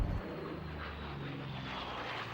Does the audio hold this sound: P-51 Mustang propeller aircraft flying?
yes